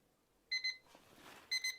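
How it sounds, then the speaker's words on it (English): A HODIK RGB digital LED alarm clock emits quick double beeps, two pairs separated by a short pause, sharp and electronic against a quiet room. "here's the alarm going off. A single beep, beep, beep, beep"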